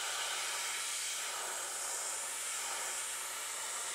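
An airbrush spraying paint onto an alloy wheel during scratch repair, giving a soft, steady, faint hiss of air with no other sound.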